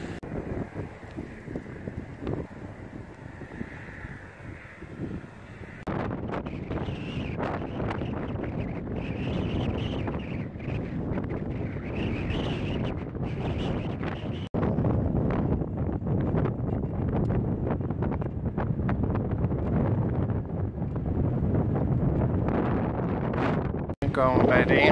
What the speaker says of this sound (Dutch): Het waait heerlijk.